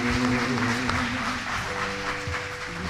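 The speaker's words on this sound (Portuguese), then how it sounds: "Um aplauso ao Senhor" A church congregation applauds during a Sunday morning service, a sustained wash of clapping over a held musical tone, steady and fairly loud throughout.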